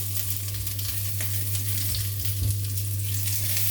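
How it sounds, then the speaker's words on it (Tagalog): Bitter gourd sautéing with browning garlic in a hot pan gives a steady, loud sizzle throughout, with occasional scraping stirs rising above the constant frying hiss. "Tapos, igigisa natin yung ampalaya"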